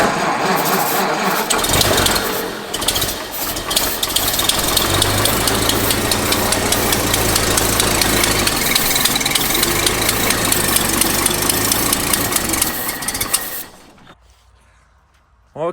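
A 100-year-old Packard engine idles loud and close with a steady, slightly knocking low rumble and vibration, running unevenly with a struggling carburetor, then cutting off abruptly near the end.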